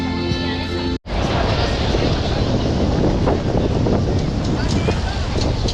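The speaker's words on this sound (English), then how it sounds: "the wind has really picked up here. It's like a windstorm." Strong wind buffets the microphone in Zagreb, Croatia, a loud continuous roar and rumble with gusty swells, briefly cut off by a dropout near the start and then returning at full force.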